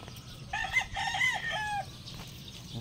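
A rooster crows once, a clear, fairly close cock-a-doodle-doo, against quiet background noise.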